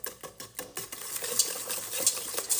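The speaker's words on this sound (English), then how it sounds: "We're gonna add in one here and whisk that together." An egg being whisked into brownie batter in a bowl: quick, rhythmic close clicks and wet slapping strokes repeat steadily, fairly soft and with no talking.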